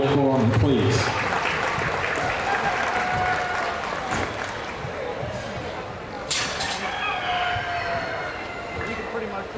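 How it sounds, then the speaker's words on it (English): Fair audience in an event center claps as animals head back to the barn, a steady roomy applause lasting several seconds, with an announcer's voice and other sounds mixed in. "Give them a round of applause as they head back to the barn"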